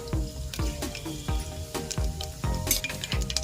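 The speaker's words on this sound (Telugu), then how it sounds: "ఆయిల్ వేడైన తర్వాత ఇందులోకి 1 స్పూన్ మెంతులు, 1/2 స్పూన్ ధనియాలు, 1/2 స్పూన్ ఆవాలు, 1/2 స్పూన్ జీలకర్ర" Fenugreek, coriander, mustard and cumin seeds frying in hot oil for a Rayalaseema fenugreek dal give a steady close sizzle, with quick sharp pops and crackles spread throughout.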